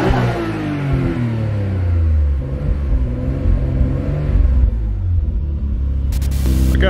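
A Nissan RB26 car engine revs and rumbles steadily up close in the engine bay after power washing, its pitch rising and falling over several seconds, with a brief clunk near the end.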